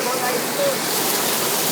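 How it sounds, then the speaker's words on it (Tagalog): Water pouring steadily while something is being rinsed, a dense loud hiss of running water close by, unbroken through the short moment. "Binabanlawan na oh!"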